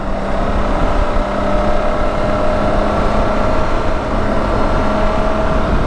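Suzuki K16 GSX-R motorcycle engine droning steadily at speed, a continuous loud exhaust and wind roar with a sustained tonal hum throughout and no distinct crackles standing out.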